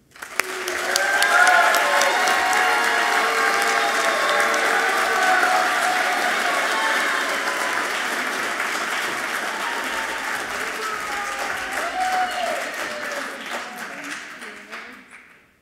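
An awards-ceremony audience applauds and cheers for an honor alumni award recipient, sustained dense clapping that starts abruptly, holds steady, then tapers off near the end.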